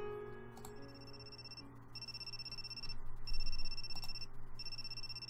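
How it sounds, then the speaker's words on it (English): Telephone in the video game Amnesia: Memories ringing in repeated electronic bursts with short gaps between them, over a soft musical background and no talking. "Oh, the phone's ringing."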